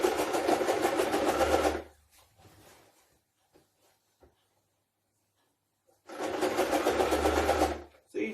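A sewing machine stitches the seam of a skirt in two loud, steady runs of rapid needle hum of about two seconds each, close by, separated by a quiet gap with soft fabric rustles and handling clicks.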